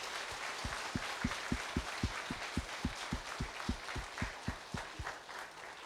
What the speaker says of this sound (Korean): 우리 하나님 앞에 다시 한번 큰 박수로 한번 영광 올려드립시다.